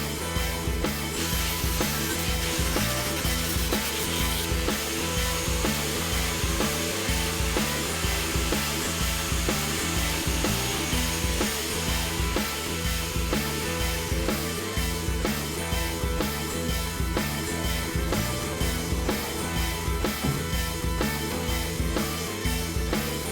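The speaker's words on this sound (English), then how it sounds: "I had to keep cutting back metal" A cutting tool works steadily through rusty floor metal under the driver's seat of a Dodge B350 van, making a loud, continuous, close whine and grind with no pauses and no talking.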